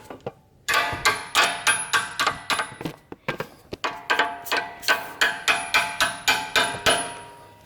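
A strut bolt on a Saab 9-5 is driven out with a hammer. A rapid run of close, sharp metallic strikes comes in two bursts separated by a short pause, with a faint high ringing lingering behind the blows.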